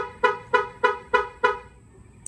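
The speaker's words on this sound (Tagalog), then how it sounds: "pag dinoble press naman natin si lock button, so magbi-beep yung sasakyan" Five short horn beeps from a Chery Tiggo plug-in hybrid SUV, triggered by double-pressing the lock button, in a steady, evenly spaced rhythm, fairly loud and close, followed by quiet.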